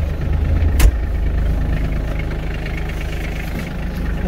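An Iseki Geas 33 compact tractor pulls away in its lowest gear, its diesel engine chugging loud and close with a steady rhythm after a sharp clunk early on.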